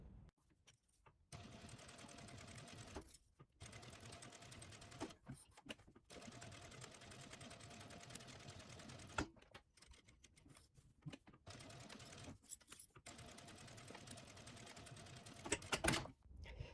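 A sewing machine stitches a fabric pocket onto a bag lining about 3 mm from the edge, whirring in close runs of rapid stitching broken by several short pauses.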